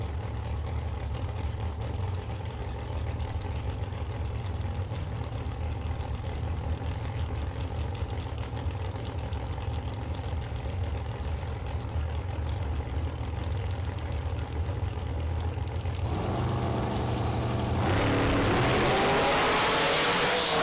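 A 2020 Racecraft Shorty Dragster fitted with fenders drag racing at a bracket race, its engine a steady, loud, close roar that swells into a harsher, brighter burst near the end, with no talk over it.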